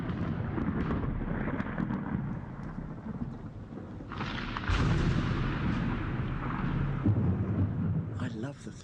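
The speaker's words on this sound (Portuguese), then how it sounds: "Eu adoro o trovão" Thunder rumbles through a rainstorm, a deep rolling boom swelling midway and holding loud, with rain hiss and some faint voices underneath.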